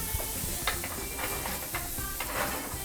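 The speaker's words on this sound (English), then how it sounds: "Shallow frying." Oil sizzles as flour fritters shallow-fry in a pan, a steady crackling hiss punctuated by a few light scraping stirs.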